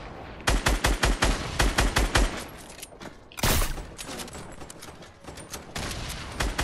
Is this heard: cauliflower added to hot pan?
no